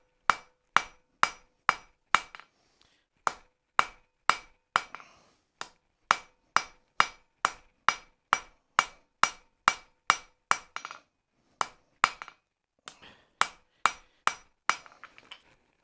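Hammer blows ring out on hot steel at an anvil as a blacksmith draws a taper while forging a decorative heart: a loud, steady run of sharp metallic strikes, close up, with a couple of brief pauses.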